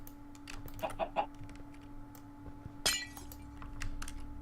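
A video game chicken placed on a hopper in a Minecraft-style mob grinding build, giving a few faint clucks over a low hum, with a sharp glassy clink partway through.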